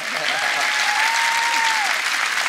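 Steady audience applause at a folk music concert, a dense even wash of clapping from a crowd, with a faint whistle-like tone gliding above it.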